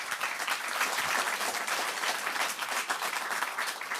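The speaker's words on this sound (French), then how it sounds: "vous applaudir." Audience applause fills the hall after a talk on nuclear fusion, steady and sustained clapping from a sizable crowd for the whole stretch, with no voices over it.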